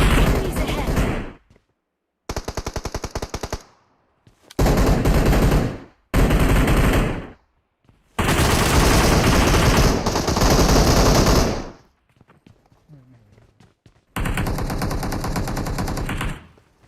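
Automatic gunfire in PUBG Mobile rattles out in several loud, sustained bursts of a few seconds each, separated by short silences and faint background noise.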